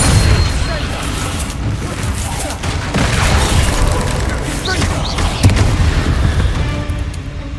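The Depulso spell is cast in a Hogwarts video game, producing a string of heavy booming blasts and bursting pops over a dense, rumbling game soundscape, loud and continuous.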